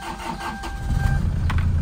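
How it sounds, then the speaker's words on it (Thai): A Toyota Tiger pickup engine cranks and catches, settling into a steady low idle rumble that grows louder in the second half, heard close with no talking. "เครื่องก็ติดง่ายอยู่นะ"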